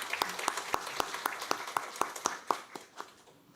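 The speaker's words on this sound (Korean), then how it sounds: "우리 주님께 다시 한번 영광의 박수 올려드리도록 하겠습니다" Evenly spaced, rhythmic clapping rings out in a church during Sunday worship, with about a dozen sharp, fairly close claps at a steady beat that fade out at the end.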